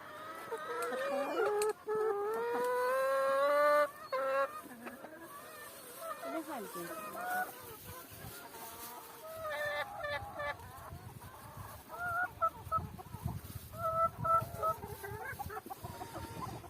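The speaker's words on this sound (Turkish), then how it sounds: "Tavuklar nasıl rahatladı. Hepsi dışarı çıktı." Chickens cluck and call outdoors on a muddy farm, with drawn-out cries near the start and scattered clucks later, and a voice at times.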